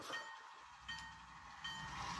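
A model railway train moves cars around a layout while switching them into a block for a train, giving a soft, steady rolling rumble and faint clicking throughout.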